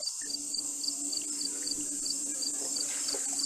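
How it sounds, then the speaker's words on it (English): Crickets chirping loudly and steadily, a close, high-pitched rhythmic trill repeating evenly throughout with no other sounds over it. "I have like crickets going really loud in my ear"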